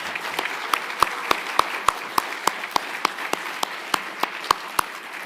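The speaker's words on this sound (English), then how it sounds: "Can we give them a round of applause?" Conference audience applauds its speakers and panelists with steady rhythmic clapping, about twenty evenly spaced claps over a soft background of scattered applause.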